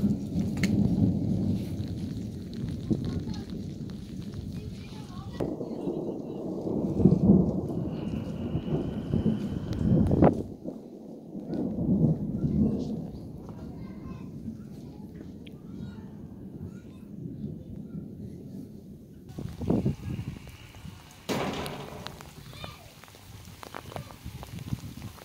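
A thunderstorm in Gujranwala with deep, rolling thunder rumbles that come and go over steady heavy rain. Quieter gaps fall between the louder bursts, and no one speaks.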